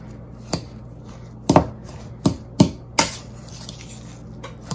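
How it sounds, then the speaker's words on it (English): A fork mixing and mashing potato with dill and nutritional yeast in a bowl, several distinct tapping knocks at uneven intervals with soft scraping between, close with no talking. "I find this is easiest to do with a fork, just to really get in there and mix it up."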